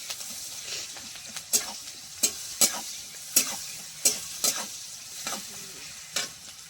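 Chopped onions frying in oil with nigella seeds and slit green chillies: a constant soft sizzle broken by regular spatula scrapes and clacks against the pan, roughly one every half second, with no voices.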